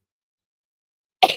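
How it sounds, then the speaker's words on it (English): A single short cough bursts out after a second of silence, close and fairly loud. "So now I'm going to start to cough."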